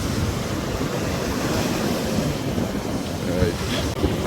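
Strong wind buffets the microphone over rough sea waves, where fishermen are out in a boat: a steady, loud roaring wash that swells slightly near the end, with no clear voices.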